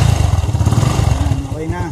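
A Yamaha FZ motorcycle engine runs close by with a loud, throbbing low pulse that holds steady and then eases off. Its RPM is being checked after a universal digital speedometer was installed, and someone talks over the engine.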